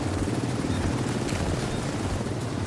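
An extraction helicopter in the video game The Division 2's Dark Zone gives a loud, steady rotor roar with a throbbing low thump that fills the whole stretch, with no voices.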